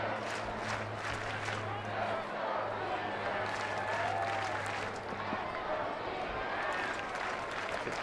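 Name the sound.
baseball stadium crowd cheering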